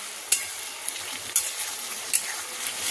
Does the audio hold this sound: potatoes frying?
yes